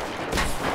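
Gunfire from the shooter game Metro Exodus, a short burst of loud, close shots blending into one another, with no talking.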